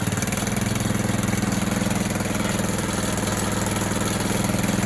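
A DTZ 470B walk-behind tractor engine runs steadily in low gear, a loud, even, throbbing drone that carries on without a break and with no talking over it.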